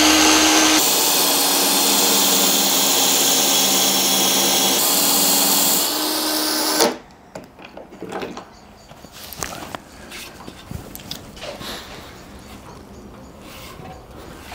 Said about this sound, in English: I'm going to use it again to sand the chamfer into the bottom